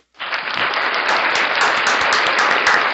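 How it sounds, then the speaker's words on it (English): Thick, steady applause from a wrestling arena crowd saluting Rockin' Ricky, rising quickly and staying loud and even for the whole stretch with no voices over it. "we want to give a salute of applause to Ricky"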